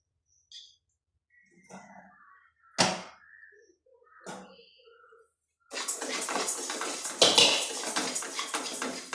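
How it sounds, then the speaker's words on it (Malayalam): Rice being roasted in a metal pan at home: a few sharp scrapes and clinks of a spoon against the pan, then a steady sizzling, rustling stir of grains that carries on loud and close. "ഞാൻ ഒരു അര ഗ്ലാസ് അരി എടുത്തിട്ടുണ്ട് അത് നമുക്ക് വറുത്തെടുക്കാം"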